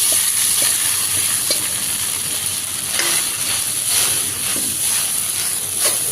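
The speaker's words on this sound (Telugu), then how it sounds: "సగ్గుబియ్యము ఈ నెయ్యిలో వేసుకొని ఫ్రై చేసుకోవాలి" Soaked sago pearls frying in ghee, a loud steady sizzle and hiss with occasional stirring scrapes in the pan.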